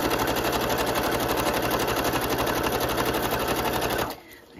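Sewing machine running a decorative stitch, a loud steady rapid whir for about four seconds before cutting off abruptly into quiet.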